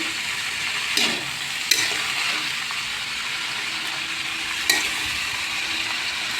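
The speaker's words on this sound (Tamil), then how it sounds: "நல்லா வதக்கி விட்டேன்." Carrot, beans and cabbage poriyal sautéing in a pan, an even close sizzle with occasional sharp scrapes and clinks of the ladle against the metal, and no voices.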